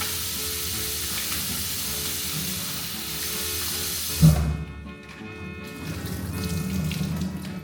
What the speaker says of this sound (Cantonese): 我而家洗一洗我嘅午餐